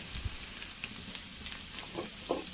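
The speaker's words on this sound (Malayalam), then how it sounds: "നന്നായി ഒന്ന് ഇളക്കി കൊടുക്കാം" Egg kurma masala sizzling in a pan while being stirred, a close, continuous frying crackle with small scraping and tapping sounds from the spoon.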